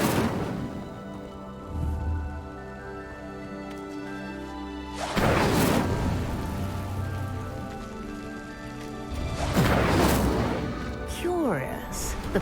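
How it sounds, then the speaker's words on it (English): Incendio fire spell in the Hogwarts Legacy video game igniting a pyre: two loud whooshing bursts of flame with crackle, layered over a sustained musical backdrop. "Incendio! Merlin's beard! The flames make the pyre sink."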